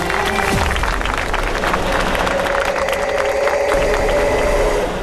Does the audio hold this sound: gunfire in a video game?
no